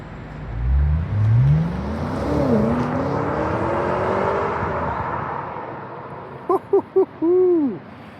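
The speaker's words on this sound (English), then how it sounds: "Man, you could just hear those tires grip." A 2026 BMW M5 Touring on 20- and 21-inch M wheels drives past with a rising engine and tire tone, loud and close. A few short chirps and a longer squeal follow near the end.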